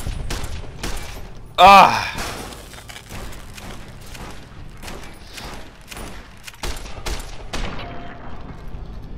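Rapid video-game gunfire aimed at a large robot scorpion in Fallout New Vegas: sharp repeated shots and bursts, close and fairly loud, with a brief loud shout early on and excited voices talking over the fire.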